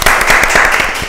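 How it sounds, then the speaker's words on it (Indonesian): Applause from an audience at a student ambassador handover event, a dense, steady patter of many hands clapping close by for the whole short stretch. "Tepuk tangan dulu dong."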